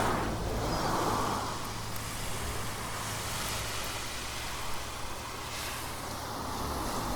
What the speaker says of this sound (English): I'll just let them cars pass